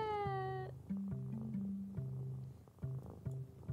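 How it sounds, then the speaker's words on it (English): A cartoonish cat in the game A Little To The Left gives a rising meow, then a run of short, chirpy mews and trills in quick succession, close and clear with no talking. "Look at the kitty cat."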